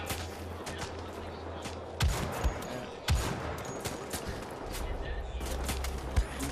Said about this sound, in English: So this is the new bolt action rifle, and I've got the attachable scope right here.